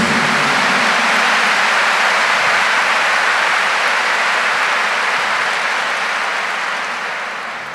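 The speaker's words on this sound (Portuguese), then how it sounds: "Give the Lord a big clap for what happened" An audience at a church talk claps long and loud in a dense, even roar of applause that holds strong, then slowly thins toward the end.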